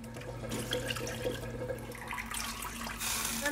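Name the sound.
water running into the chicken soup pot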